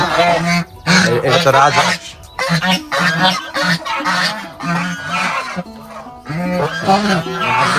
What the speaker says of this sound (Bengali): এগুলো হলো চীনা হাঁস